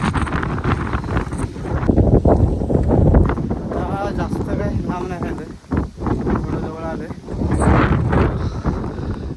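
Strong wind buffets the microphone in loud gusts on a hill near Tikleshwar temple while a person talks over it, rising and falling throughout.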